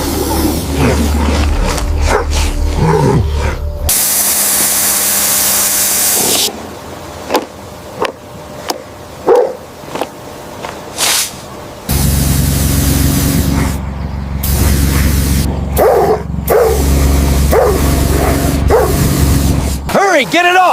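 A German Shepherd barks and yelps in short bursts while being attacked by a giant python, amid loud hissing spray, rumbling machine noise and people shouting close by.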